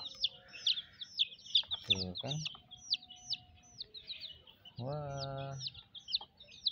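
Colourful backyard chickens cluck and chirp in a steady run of short calls, with a louder drawn-out crow-like call twice, while people talk nearby.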